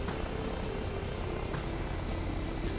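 Blackfish VTOL aircraft from the Arma 3 video game flying steadily, a continuous broadband engine and rotor roar with faint periodic high whooshes, heard alone with no voices.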